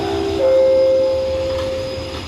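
A train pulling into Chiang Rak Noi station in Thailand, a close, loud rumble with a sustained horn-like tone that rises and holds, then fades slightly toward the end.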